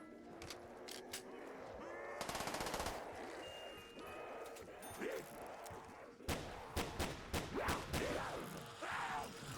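Rapid bursts of automatic gunfire in a Black Ops 3 Tranzit custom zombies map, loud sharp volleys broken by short pauses, with game effects and a faint voice in between.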